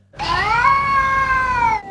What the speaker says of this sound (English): you know that sound cats make when they fight